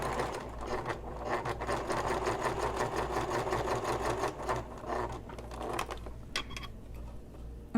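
A sewing machine bastes the gusset of a messenger bag in one continuous, close, fairly quiet run with a fast rhythmic whir, then slows and stops near the end with a few clicks.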